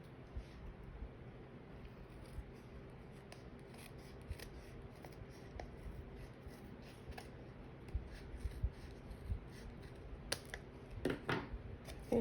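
Scissors trim the bottom edge off card stock, faint close snipping and rustling that grows busier toward the end, with no talk.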